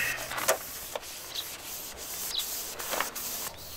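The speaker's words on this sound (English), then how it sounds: "Technically it's day two of sanding the bus" Steady back-and-forth sanding scrapes on the painted body of a school bus, rhythmic strokes about every half second, close and fairly soft, with no talking.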